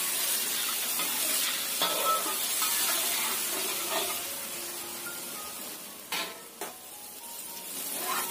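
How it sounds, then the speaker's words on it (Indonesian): Chinese-style sauce with garlic, shallot and ginger bubbles and sizzles in a pan before tofu goes in, a steady close frying hiss with a couple of light clinks near the end. "Tunggu sampai mendidih."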